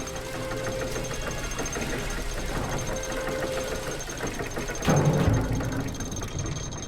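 A machine engine in The Book of Unwritten Tales 2 runs with a steady mechanical whir and ratcheting, gear-like clatter, holding an even level before a brief louder surge near the end.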